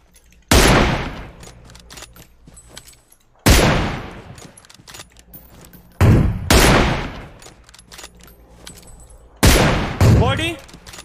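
Bursts of automatic gunfire from a battle royale shooter game come in four loud separate volleys, each decaying into echoing reports, with a voice speaking between them.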